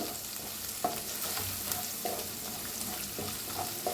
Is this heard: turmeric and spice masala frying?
yes